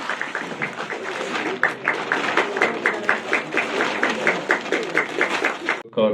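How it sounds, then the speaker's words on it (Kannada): An audience at a Kannada film song launch event claps in a steady, rhythmic patter that holds for several seconds, fairly close and moderately loud. "ದಯವಿಟ್ಟು ಜೋರಾಗಿ ಚಪ್ಪಾಳೆ ಬರ್ಲಿ"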